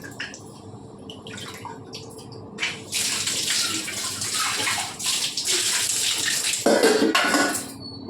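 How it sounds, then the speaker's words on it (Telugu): Water splashes and pours into a metal vessel of maida flour, starting with light clinks and dribbles, then a loud steady gush, with scraping and sloshing near the end. "ఇంకా వాటర్ పోయాలి దీంట్లో"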